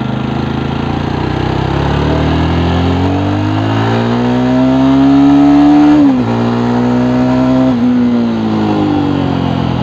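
A Jawa Perak Bobber 350 motorcycle pulls in third gear, its engine note climbing steadily and holding a loud, close drone with brief dips at shifts or throttle changes, with wind rush and no talking.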